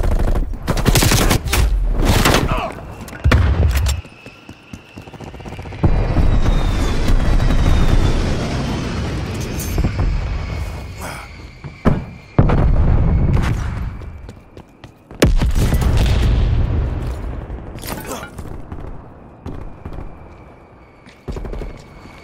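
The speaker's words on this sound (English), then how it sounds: "Strafe run incoming on your location." A strafe run in Call of Duty: Cold War tears through the area with heavy, close machine-gun fire and booming explosions, coming in repeated loud bursts separated by short lulls and a passing aircraft whine.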